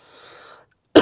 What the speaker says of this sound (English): A cough's coming on.